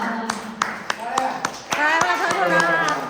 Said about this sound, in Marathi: थोडा जोरदार टाळ्या वाजवा